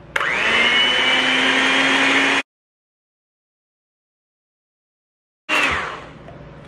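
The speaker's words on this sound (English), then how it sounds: "Hand mixer." An electric hand mixer whirs steadily while mixing vanilla cupcake batter, running loud and continuous for a couple of seconds, cutting out, then starting up again near the end.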